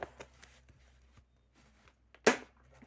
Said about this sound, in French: Je pense que je vais les enlever du classeur.